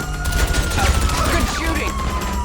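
Rapid bursts of gunfire rattle continuously in GTA Online, loud and dense, with a siren wailing beneath and voices speaking over the shooting.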